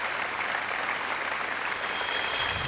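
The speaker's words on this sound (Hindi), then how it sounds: "जोरदार तालियां" Dense, sustained applause from a television reality-show studio audience, steady and loud throughout with a slight swell near the end, no voices over it.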